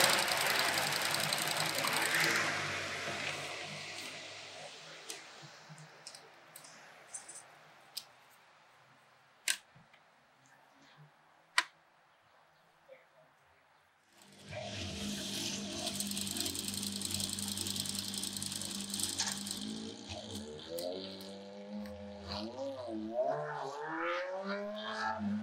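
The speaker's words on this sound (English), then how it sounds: "And we jump on the machine. We're going to stitch this side down first, and then we're going to stitch this." A sewing machine runs steadily while stitching fabric for a mask, loud at the start, fading to a quiet pause with a few clicks, then resuming with a voice speaking over it.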